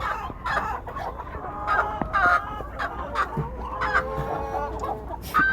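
Chickens on a Malaysian chicken farm cluck continuously in a busy shed, many birds overlapping with rising calls and short squawks at close range, without talk.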